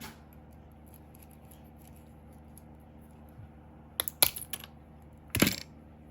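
A few short, crisp snips near the end, scissors cutting paper, after a stretch of quiet room hum.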